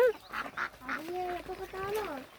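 Ducks quack and honk close by in a short flurry of calls, with a voice talking over them.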